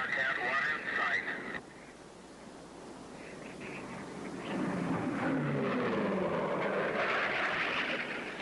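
Modified Grumman Bearcat racing airplane with a piston engine of over 3,000 horsepower on a 1969 speed-record run, its roar building from a distant drone to a loud sustained pass in hot open desert air.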